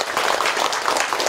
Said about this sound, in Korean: 감사의 표시로 큰 박수 한번 쳐주시기 바랍니다